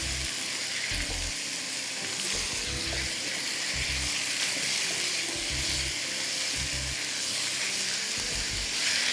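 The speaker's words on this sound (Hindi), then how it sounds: "अच्छी तरह इसको पहले स्टर फ्राई करिएगा।" Chicken breast stir-fried in a hot pan, a constant loud sizzle with repeated scraping and tossing strokes throughout, close up and without speech.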